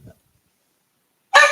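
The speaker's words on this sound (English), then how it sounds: "Oh, the dog's barking." A single dog barks loudly and close by, a short sharp burst that arrives abruptly after a long stretch of near silence.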